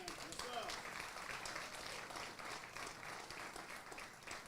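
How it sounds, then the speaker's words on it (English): Applause from the crowd at a hospital ribbon-cutting ceremony in Harris County, a soft, fairly distant patter of clapping lasting a few seconds, with some voices mixed in. "That's worth a round of applause."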